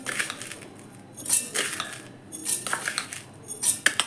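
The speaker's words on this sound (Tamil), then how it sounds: "இப்போ ஒரு பெரிய மிக்ஸி ஜார் எடுத்து 4 ஸ்பூனு கல் உப்பு போட்டுக்கலாம்." Coarse rock salt granules rattle and clink into a large mixer jar in several short, gritty spoonful pours with quiet pauses between them.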